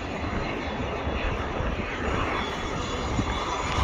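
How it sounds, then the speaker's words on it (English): An airliner's engines rumble loud and steady as the plane moves around an airport on a windy day, a continuous broadband roar with no talk over it. "Oh, this plane's moving."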